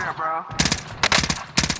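An M16 rifle in the video game Call of Duty: Modern Warfare fires three rapid bursts, loud and close, with short gaps between them and a faint voice just before the first burst.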